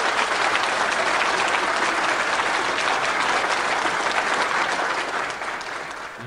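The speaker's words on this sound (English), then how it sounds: "I guess the chat's clapping." A clapping sound effect plays from a livestream's chat, a dense, even applause texture that holds steady and then softens toward the end.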